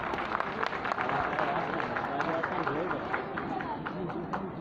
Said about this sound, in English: So a big applause for Mr.